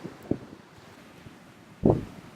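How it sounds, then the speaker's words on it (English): Waves wash softly in the background with gusty wind noise on the microphone, including a couple of louder surging bursts against a low, breezy rumble, heard without talk. "are those waves I keep hearing in the background?"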